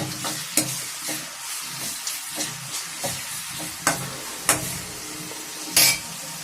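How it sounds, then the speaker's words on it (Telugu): Onions frying for a jeenuvulu curry, a steady soft sizzle with repeated clinks and scrapes of a spoon stirring against the pan, close and moderate in level, with no talking. "ఉల్లిపాయలు కొంచెం ఎర్రగా వేగిపోవాలి"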